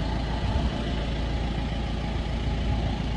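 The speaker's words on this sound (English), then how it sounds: "just turning the engine over, letting it warm up" A sailboat's diesel engine idles while warming up, a steady low chugging rumble heard up close and fairly loud, with no talking.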